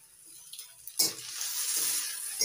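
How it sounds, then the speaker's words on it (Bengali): Chopped tomatoes drop into a pan of fried onions, setting off a sudden loud sizzle that hisses steadily afterward, close and alone. "পেঁয়াজটা ভালো করে ভেজে নিয়েছি, এবার দিয়ে দিচ্ছি টমেটো কুচি"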